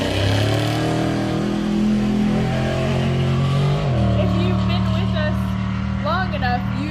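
A loud off-road race car of the Crazy Indians team roars at a qualifying race in Broadview, Montana, its engine pitch shifting and dropping midway. A voice commentates over it.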